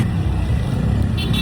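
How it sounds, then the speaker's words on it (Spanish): A motorcycle engine idles and putters close by, a steady low rumble throughout, on a road in La Guaira, Venezuela. "¿Suena así la moto?"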